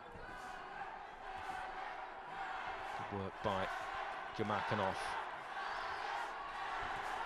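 A home crowd roars steadily throughout a boxing match, a dense loud wash of cheering with a few sharp thuds, while a commentator talks over it.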